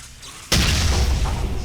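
A grenade goes off in the sci-fi shooter Dead Effect, a sudden heavy boom after a short quiet lead-in, followed by a loud rumbling roar that stays strong to the end.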